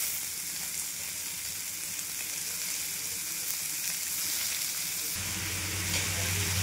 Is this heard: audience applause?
no